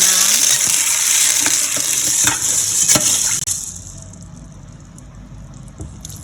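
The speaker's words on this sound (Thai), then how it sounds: "เราก็นำถั่วมาล้างน้ำสักสองสาม" Beans rinsed in water, with steady splashing and swishing that is loud at first, then drops to a softer trickle and faint clinks partway through.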